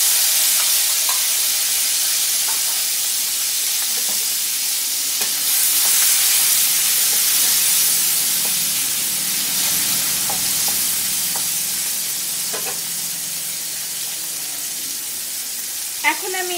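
Drumstick curry with potatoes, green chilli and freshly added tomato sizzles steadily in a pan, a constant close hiss with a few faint stirring clinks and a brief knock near the end.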